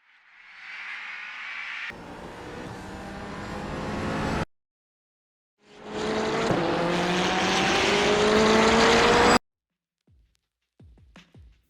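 A race car in a sim racing game drives on track, engine note rising in pitch through two long accelerations cut by abrupt silences, with brief clicks at the end.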